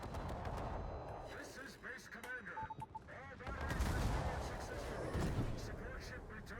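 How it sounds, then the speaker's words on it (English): Warship guns firing armour-piercing shells in World of Warships, a German Mecklenburg battleship in an operations battle: repeated heavy booming salvos and rumbling blasts, loud and close, with game effects and a voice talking over them. "We're going to shoot AP at the Yodo and torpedo the Clausewitz."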